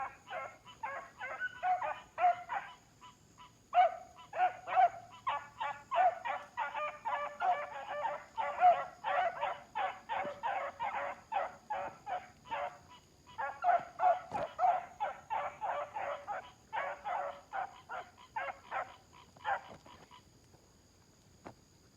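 A litter of young puppies barks and yelps in rapid, overlapping bursts, a high, choppy chorus that carries on almost nonstop with only short pauses, fairly close by.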